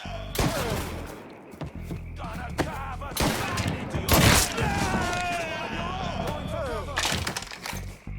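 Gunfire in the PC video game Mafia 3 Definitive Edition, loud cracking shots and bursts through a firefight with shattering impacts, mixed under shouted character voices.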